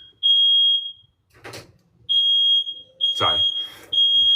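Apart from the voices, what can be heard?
smoke alarm going off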